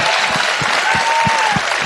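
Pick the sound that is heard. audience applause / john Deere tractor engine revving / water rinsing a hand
audience applause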